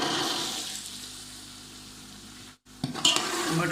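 Peas tipped into frying masala for a matar recipe, with a hiss of sizzling and stirring that drops out briefly, then returns with clattering scrapes of the spoon in the pan.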